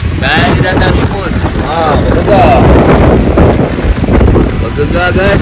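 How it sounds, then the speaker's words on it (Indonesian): Strong wind buffeting a beach campsite at Telok Kemang at dawn, loud continuous microphone-battering gusts with tent flapping, and a person speaking under it. "Inilah lumrah kalau camping di tepi pantai. Angin, memang tak lari lah."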